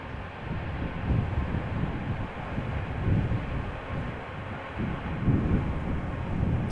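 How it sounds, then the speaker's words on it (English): Airliner touching down at Amsterdam Schiphol with thrust reversers at idle, a steady broad low rumble that swells and fades in waves, fairly loud and continuous with no voices. "Sounded like idle reversers. Still an impressive landing nonetheless."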